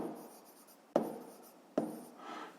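Pen on paper during a fifth-grade maths exercise: soft scratchy strokes close by, punctuated by two sharp taps about a second apart, with no talk.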